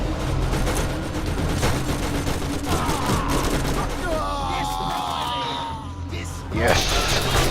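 Rapid bursts of gunfire crackle in a dense volley, loud and sustained, with shouting voices mixed in and a brief lull before another burst.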